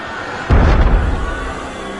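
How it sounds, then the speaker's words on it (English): Cannon fire in the video game Assassin's Creed Unity: a single deep, booming blast that hits suddenly and rumbles away over a second or so, with no talk. "That was cannon fire."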